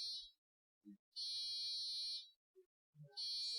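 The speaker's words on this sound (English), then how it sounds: "Second time today the bed alarm's going off." A bed alarm goes off in a series of steady, high electronic tones. Each tone lasts about a second and sounds quiet and clean, with short gaps and faint low blips between the tones.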